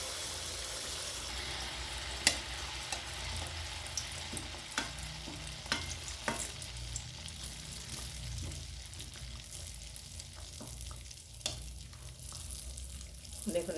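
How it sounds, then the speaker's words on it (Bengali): Semolina malpua frying in hot oil makes a continuous bubbling sizzle, joined by scattered sharp clicks and taps from utensils against the pan, with no speech. "আমি আরও একটা ভেজে দেখাচ্ছি"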